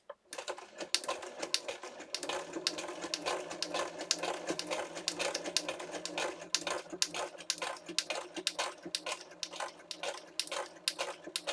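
A sewing machine stitches through paper in a fast, steady run of sharp mechanical clicks and a faint motor hum, close and continuous with no talking.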